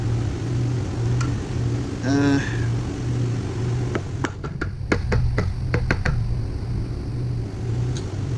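A Prius MG1 motor part is tapped into place, a quick series of sharp metallic taps clustered in the second half, under a steady low hum, with a brief voice earlier.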